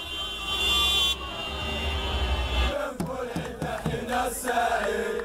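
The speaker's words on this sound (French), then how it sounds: "Dans les rues adjacentes, concert de klaxons." Car horns blare in a street celebration of an Algerian victory, a sustained honk followed by scattered shorter toots amid traffic noise.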